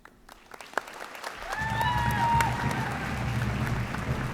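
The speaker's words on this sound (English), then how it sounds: "that's a little bit too much clapping" A high school graduation audience breaks into sustained applause and cheering for a class speaker, a dense, steady wash of clapping rising after a quiet moment, with a few voices over it.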